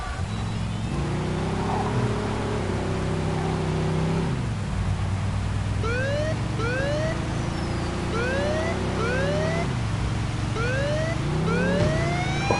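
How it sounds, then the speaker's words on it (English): Police car sirens in the video game Mafia 2, a steady rising and falling wail over a low car engine drone, joined by repeated sweeping whoops partway through. "The cool thing is the sirens work"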